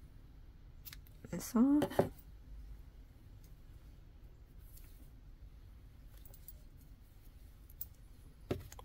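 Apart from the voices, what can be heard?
scissors cutting yarn off a crochet teddy bear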